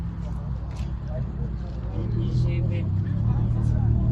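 A Ferrari passes by on the road, heard as a steady low engine and tyre rumble that swells louder toward the end, with murmured voices nearby.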